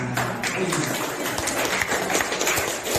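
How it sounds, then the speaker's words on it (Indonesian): Applause at a school learning-practice session, a dense steady wash of clapping filling the whole stretch at moderate loudness, with faint voices mixed in. "Tepuk tangan."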